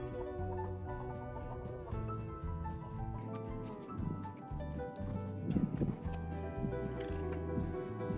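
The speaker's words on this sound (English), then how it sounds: "Chickens are earning their keep by helping me out here." Backyard chickens cluck and murmur while scratching through a garden bed, soft and close under a steady background hum, with occasional louder squawks.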